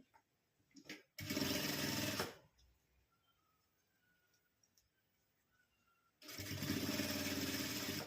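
A home sewing machine stitches a zipper onto a girl's top in two steady whirring runs, about a second and two seconds long, separated by a quiet pause with faint handling sounds.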